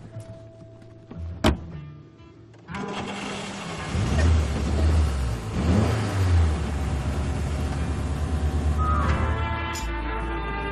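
Alba sports car with a Portuguese-made engine starting and running, a sharp click followed by the motor firing up, revving twice loudly nearby, then settling into a steady hum.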